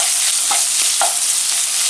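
Small pieces of boneless chicken stir-fry with vegetables in a hot pan for noodles, giving a loud, steady sizzle with a few faint stirring scrapes and no talking.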